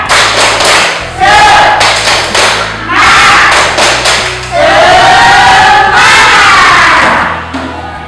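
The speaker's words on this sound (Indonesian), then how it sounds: "Kalian coba lakukan dulu tepuk semangat." Schoolchildren perform a rhythmic 'tepuk semangat' clapping cheer in class: loud patterned bursts of claps and thumps in timed groups, with voices chanting along in unison between and over the beats.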